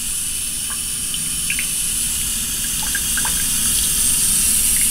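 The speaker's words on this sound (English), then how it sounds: "Sink. Decent water pressure, good enough for brushing your teeth and all that stuff." A cruise ship stateroom sink faucet aboard Explorer of the Seas runs with strong pressure, a steady close hiss of flowing water with faint droplet splashes, continuing unbroken throughout.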